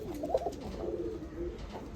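Soft, throaty cooing rises and falls from imported UAE flying pigeons in a Nashik Road loft, one clear burst early then quieter murmurs, near and faint against low background noise.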